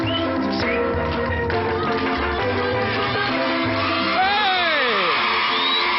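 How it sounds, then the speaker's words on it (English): A television studio audience cheers and whoops over continuous music, the loud crowd noise mixing with shouts throughout. "So let's have a bit of a cheer."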